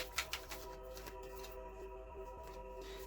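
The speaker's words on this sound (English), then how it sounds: "So I'm going to shuffle finally to end your reading my Self-Care's Oracle deck" An oracle card deck is shuffled by hand at close range, giving soft, quiet riffling and papery flicks with a few sharper taps near the start, over low background hum and no talking.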